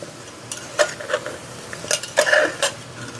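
A utensil stirs chicken stew with salt and black pepper in a pot, giving scattered metallic clinks and scrapes in irregular bursts. The sound is close and moderately loud, with no voices.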